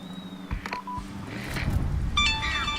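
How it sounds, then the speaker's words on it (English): A short electronic text-message alert chime from a naval battle video game, bright tonal beeps sounding near the end over low engine rumble and game noise. "Text message received."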